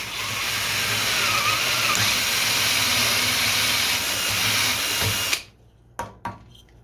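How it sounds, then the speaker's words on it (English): A power drill fitted with a Forstner bit bores at an angle into a carved wooden shoe, a loud continuous whine for about five seconds before the motor cuts off, followed by a few short bursts of the trigger. "See, I'm drilling at an angle like the shoe is."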